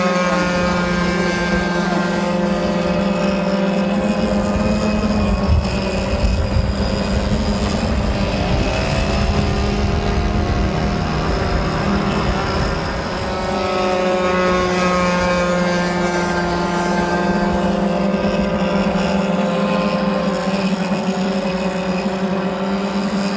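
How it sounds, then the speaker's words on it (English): A Pacer 70 engine running steadily at full throttle, a loud continuous high droning whine with a strong tonal buzz that holds nearly unchanged throughout, with no talking. "full throttle, which is really ripping quite high"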